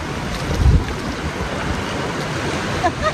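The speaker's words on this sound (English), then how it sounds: "the tide's coming in, washing out the walkway" Incoming tide washing water over a shoreline walkway in Door County, Wisconsin, a rushing, splashing wash mixed with gusty wind buffeting the microphone.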